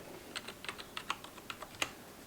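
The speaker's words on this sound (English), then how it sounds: "this is just like a membrane, cheap gaming keyboard" Soft, muffled keystrokes on a cheap membrane gaming keyboard, about a dozen quiet clicks typed at an uneven pace.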